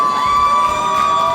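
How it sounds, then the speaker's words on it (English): A graduation crowd cheers and screams steadily and loudly, with whoops and children's shouts over a sustained high tone, no speech. "a lot of screaming. Almost too much screaming."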